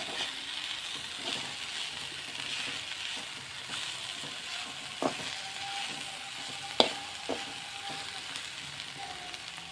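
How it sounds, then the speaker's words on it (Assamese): Ginger-garlic paste frying in a pan, a steady sizzle with occasional sharp clinks of a utensil stirring against the metal. "মই এইখিনি ইয়াতে গোটেইখিনি ঢালি দিম আৰু কিছুপৰ আদা ৰহুনৰ যিটো গোন্ধ আছে এই গোন্ধটো নাইকিয়া কৰিবৰ কাৰণে মই কিছুপৰ ভাজিম।"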